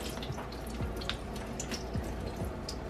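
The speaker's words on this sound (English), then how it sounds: "I'm about to drain these and rinse them for a while." Food being drained and rinsed under a running kitchen tap, with a continuous soft splash of water and scattered drips and gurgles, fairly quiet and close.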